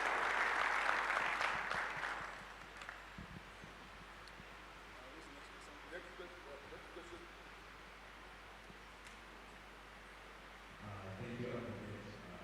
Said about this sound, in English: let's give a round of applause to all those in the overflow section